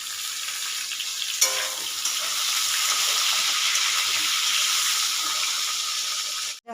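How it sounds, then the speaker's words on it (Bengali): Green chillies and potatoes frying in oil in a pan, a loud continuous sizzle and hiss close by that starts with a sharp burst when they go in and holds steady with faint stirring, then cuts off at the end. "আলুগুলোর সঙ্গে আমি কাঁচা লঙ্কা ভেজে নেব"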